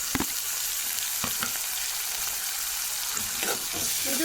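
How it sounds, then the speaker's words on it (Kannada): Tomatoes frying in oil in a clay pot, a loud, steady hiss of sizzling with a few brief scraping stirs near the start and end. "ಟೊಮೆಟೊನೂ ಒಂಚೂರು ಮೆತ್ತಗಾಗಬೇಕು ಎಣ್ಣೆಲು ಆ ರೀತಿ ಫ್ರೈ ಮಾಡಬೇಕು"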